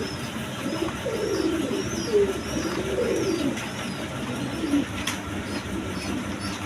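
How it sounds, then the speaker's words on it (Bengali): A pair of Danish pigeons coo in soft, repeated throaty phrases close by, with a few faint chirps and light background noise and no talk. "এইখানে এক পেয়ার ডেনিশ কবুতর আছে, অ্যান্ডোলেশন কালার, একদম দেখার মতো কবুতর"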